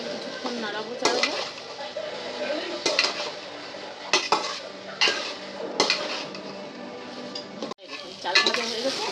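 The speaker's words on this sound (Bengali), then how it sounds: "চালটা দিয়ে কিছুক্ষণ নাড়াবো চাড়াবো।" Rice being stirred in a cooking pot for chicken polao, with repeated metallic scrapes and clanks of a spoon against the pot over a soft background sizzle and no talking.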